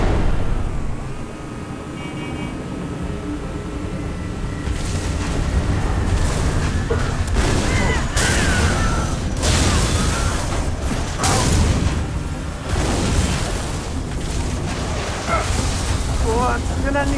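Gauss Hog vehicle in Halo 3 ODST rumbling steadily through a battle on a coastal highway, with booming explosions and bursts of gunfire breaking out over the continuous engine noise, while voices talk over it.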